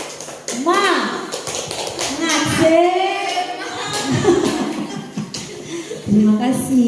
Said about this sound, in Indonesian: saya minta dulu tepuk semangatnya dulu dong